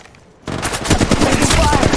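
Rapid automatic gunfire from an R99 submachine gun in the mobile shooter Apex Legends Mobile, bursting in loud and dense after a near-silent half second and continuing as a steady rattling stream.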